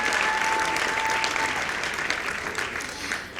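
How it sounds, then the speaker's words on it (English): An awards-gala crowd gives steady, dense applause for a women's football team, a continuous wash of clapping with faint voices mixed in. "Can we give them another round of applause"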